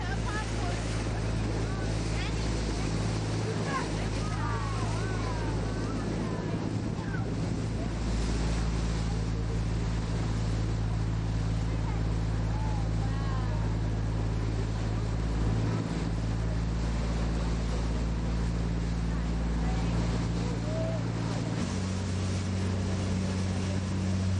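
A motorboat engine drones steadily at speed under heavy wind buffeting and rushing water, with faint high calls and voices scattered over the noise.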